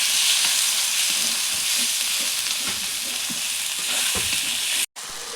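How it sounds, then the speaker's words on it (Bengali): Spice masala with chilli powder frying in oil for a Bengali mutton and potato curry, a constant loud sizzle with scraping stirs throughout, cutting off briefly near the end. "তো এরপরে মশলাটিকে কিছুক্ষণ ভেজে নেবো যাতে মশলার কাঁচা গন্ধটি চলে যায়"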